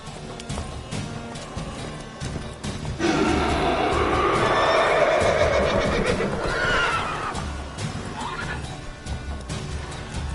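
Roach, a horse in The Witcher 3 played on PlayStation 4 Pro, gives a loud drawn-out whinny in the middle, set over game sounds with clattering hooves and knocks before and after.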